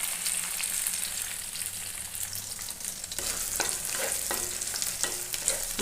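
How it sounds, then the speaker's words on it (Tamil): Onions sautéing in a pan on medium flame, a steady moderate sizzle with several scraping stirs of a spatula toward the end. "வெங்காயம் நல்லா வதங்கி வந்திருக்குங்க. மீடியம் ஃப்ளேம்லேயே வச்சு வதக்குங்க."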